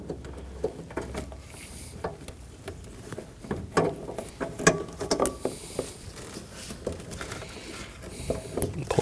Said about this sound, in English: reach in and turn counterclockwise with the bulb